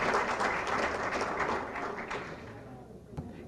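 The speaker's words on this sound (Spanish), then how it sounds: "un aplauso entonces para el doctor Manucci." An audience at a hemophilia event applauds for a doctor, a dense wash of clapping that holds steady and then gradually fades out, ending with a single louder tap near the close.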